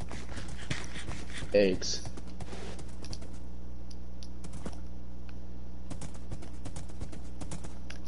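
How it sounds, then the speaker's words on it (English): Hooves clip-clop in a steady, rapid patter as a horse is ridden in a video game, heard under a voice that speaks briefly, with scattered clicks and light background noise. "So this is what it looks like riding a horse."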